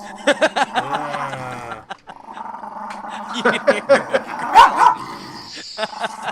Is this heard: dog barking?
yes